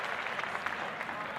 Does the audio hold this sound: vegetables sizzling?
no